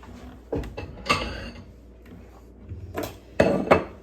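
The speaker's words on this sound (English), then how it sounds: "I'm gonna cut a nice little piece and we gonna eat it." A knife and server work through a slice of baked quiche in a dish, giving several scattered clinks and scrapes against the plate, close and fairly quiet with pauses between.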